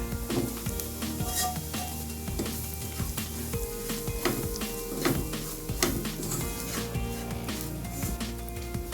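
Roasted spice powders and turmeric sizzle as they fry in a pan of curry masala for a Kerala mulakitta fish curry, a steady loud crackle with stirring scrapes and clinks throughout.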